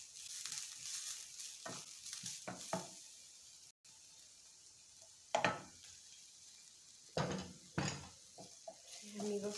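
Bacon and chiles sizzle steadily in a hot pan, a constant hiss broken by sharp pops and utensil clatters at intervals.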